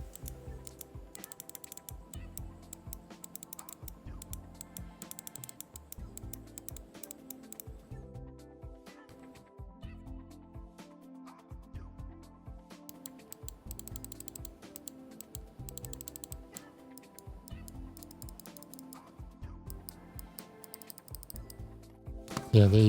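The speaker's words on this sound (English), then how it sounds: "Let's give you a sound test and why this mouse is actually one of the up and coming hottest brands out there." Clicking of an IPI Float 88 computer mouse comes in rapid, close, crisp runs of clicks that repeat throughout, with a burst of louder noise at the very end.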